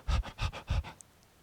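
A person imitates a dog panting heavily, three quick breathy huffs in a short rhythmic burst, close and fairly soft.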